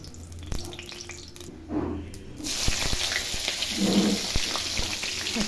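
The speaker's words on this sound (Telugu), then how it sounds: "ఇప్పుడు ఇందులోకి నూనె కాస్త కాగిన తర్వాత ఇందులో జీలకర్ర, ఆవాలు" Cumin and mustard seeds hit hot oil and crackle into a steady broadband sizzle after a few clinks and a brief watery splash; the frying stays close and fairly loud to the end, with no talking.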